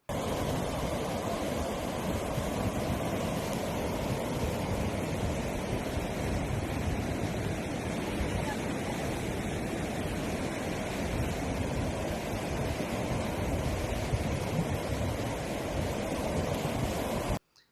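Heavy river water pours through the Medigadda barrage at high volume, a loud, continuous roaring rush with no breaks, broad and steady throughout, with no voices over it.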